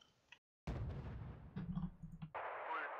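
Mortar fire in a wartime strategy video game, a muffled quiet start and brief silence, then a loud sustained roar of booming blasts with sharper pops, ending in a noisy wash.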